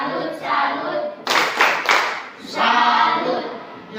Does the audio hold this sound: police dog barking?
no